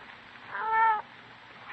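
A cat meows once in an old-time radio police drama, a single drawn-out, clearly pitched cry standing alone over a quiet background.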